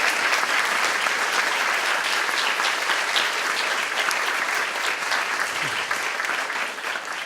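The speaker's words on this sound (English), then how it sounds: "can we give them all a round of applause for helping make this possible?" Sustained applause from a large audience at a campus mental health event, steady and dense throughout, with no one speaking over it.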